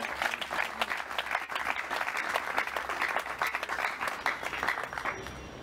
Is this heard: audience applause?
yes